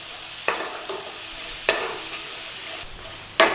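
Garlic and ginger fry over a high flame, a steady close sizzle punctuated by three sharp stirring scrapes about a second apart, with no voices.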